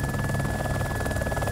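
Helicopter in the video game DayZ, a steady loud droning buzz with fast rotor pulsing that runs unchanged through the whole short stretch, no voices over it.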